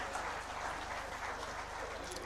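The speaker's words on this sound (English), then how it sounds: "these young leaders deserve a big round of applause" Applause from a conference audience for young leaders at an industry and supply-chain event, faint and distant, with a low steady hum running underneath.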